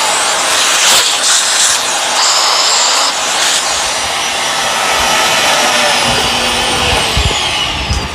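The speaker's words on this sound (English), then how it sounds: "the Bissell's really struggling because it's old-fashioned bags" An old Bissell vacuum cleaner with paper bags drones loud and steady throughout, a broad roaring whine with a few brief knocks near the start and some shifts in pitch toward the end.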